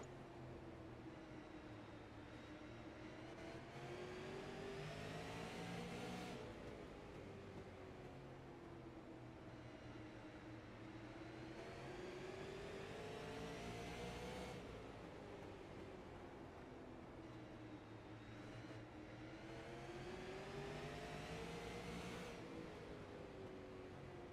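A touring-series race car engine laps Langley Speedway, a continuous in-car drone that rises and falls in pitch in long regular cycles as it circles the constant-radius oval, steady and fairly quiet with no talking.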